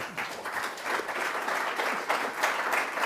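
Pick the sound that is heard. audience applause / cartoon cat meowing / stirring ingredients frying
audience applause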